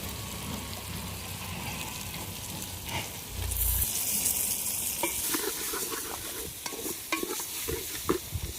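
Country chicken leg pieces fry in a pot for chicken pulao, giving a steady sizzle with scraping stirs and clattering spoon strokes, all close and continuous with no talking.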